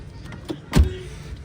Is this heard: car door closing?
yes